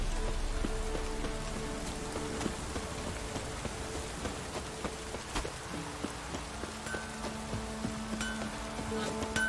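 Light drizzle falls steadily in The Witcher 3, a soft continuous patter of raindrops with faint insect buzzing in the background, no talk over it.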